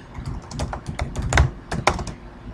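Close-up clicking of computer keys in a quick, uneven burst of keystrokes, with no voices.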